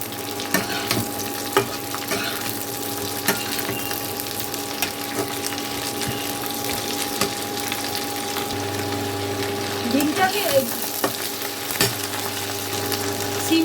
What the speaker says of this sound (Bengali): এখন আমি এই সিমগুলোকে এই পেঁয়াজের সাথে একটু ভেজে নেবো